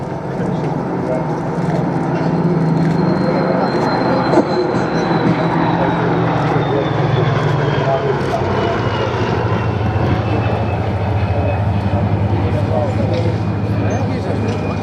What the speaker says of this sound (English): John Romain was flying the Blenheim and flying the Hurricane, Mr. Harvey.